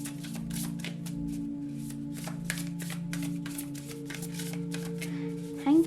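Tarot cards being shuffled during a Virgo psychic reading, a run of quick papery riffles and soft taps repeating steadily at close range, with a faint hum beneath and a brief louder knock at the end.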